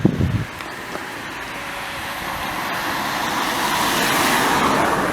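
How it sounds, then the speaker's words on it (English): A bus climbs a hill on an open road, its engine a broad, steady rumble that grows slowly louder as it approaches, with wind noise over the traffic. "Okay, so we've got a bus coming up here."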